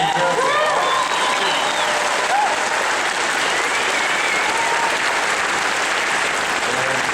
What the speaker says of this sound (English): a big round of applause for Dinnerbone